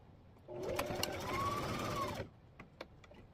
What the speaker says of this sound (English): we are going to stitch the side, the bottom, and the other side